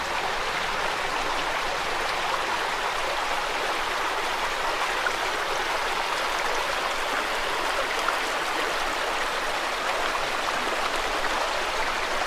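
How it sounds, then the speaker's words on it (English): Water pours steadily over an old mill dam at the head of a mill pond, a loud, unbroken rushing wash that holds at the same level throughout with no voices. "I think it really is a dam here creating the mill pond over"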